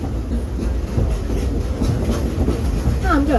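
Steam train rolling along its tracks, a steady loud rumble of wheels and car noise with faint clatter throughout, and a brief squeal near the end.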